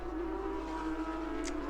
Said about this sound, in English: The Porsches, loud machines,